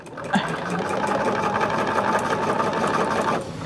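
A sewing machine top-stitches fabric for a picnic caddy, its steady rapid needle chatter running continuously and close up for a few seconds, starting with a small click.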